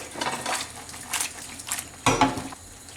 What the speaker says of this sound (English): I already add the pasta and mix it properly.